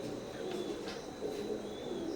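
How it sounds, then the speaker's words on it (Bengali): A pair of young Royal Teddy pigeons coo softly and repeatedly, low rounded calls close by over a faint steady background. "স্ক্রিনে এখন যে কবুতর জোড়া দেখতে পাচ্ছেন, এটা রয়্যাল টেডির এক জোড়া 5 ফেদারের বেবি"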